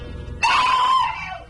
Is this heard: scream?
yes